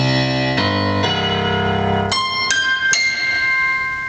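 Bass notes played on the upright piano setting of the iGrand piano app for iPad and iPhone: a sequence of low sustained notes changing every half second or so, then higher ringing notes, loud and close with long sustain.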